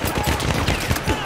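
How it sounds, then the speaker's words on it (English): Enemy machine gun in Battlefield 1 firing a rapid, loud burst of shots amid battlefield chaos, with voices shouting over it. "Machine gun! One of theirs!"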